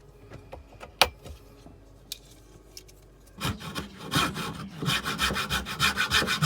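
A hand saw cuts through wood aboard a small sailboat, starting with scattered light taps and scrapes, then settling into fast, rhythmic rasping strokes that grow louder toward the end.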